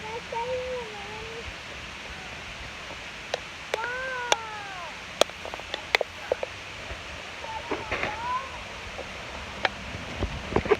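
A cat meows several times in short, rising-and-falling calls, spaced irregularly over a quiet outdoor background with scattered sharp clicks.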